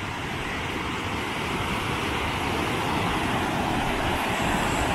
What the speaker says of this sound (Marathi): इकडे जोरदार पाण्याचा आवाज कारण इकडे व्हाळ आहे.